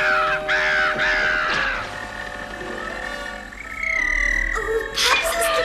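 A raven caws repeatedly in a German-dubbed Smurfs cartoon, loud harsh calls in quick bursts up close, mixed with other animal cries and a music score.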